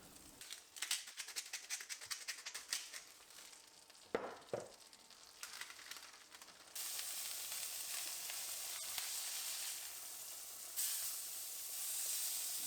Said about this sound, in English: put them in a preheated frying pan with some butter.